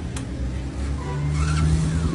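An ATV quad bike engine, already warm, starts easily and keeps running with a low, rising rumble that holds steady and loud, with no speech.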